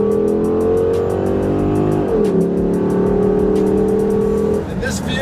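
A 2010s Dodge Charger SRT8 weighing about 4,200 pounds accelerates hard, its loud rising engine tone climbing, dropping briefly at a gear change, then climbing again, with steady repeated clicks over it.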